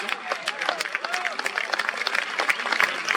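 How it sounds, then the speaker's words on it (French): A festival audience at a sea shanty festival in Paimpol claps warmly for a singer, dense continuous applause filling the space with a few cheers mixed in. "On l'applaudit."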